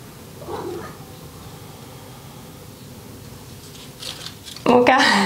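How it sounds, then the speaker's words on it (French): A house cat meows indoors during a gentle morning yoga routine, a short cry near the start and a louder, sharper meow near the end, with quiet room tone in between. "Mon chat a décidé de m'embêter aujourd'hui."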